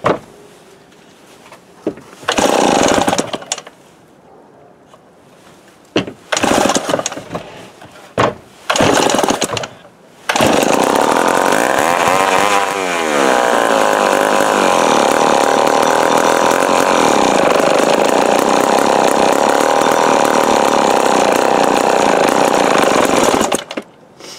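A Remington Super 754 chainsaw sputters through several short failed starting bursts, then catches and runs with a loud, steady, buzzing two-stroke drone that holds for about fourteen seconds before cutting off.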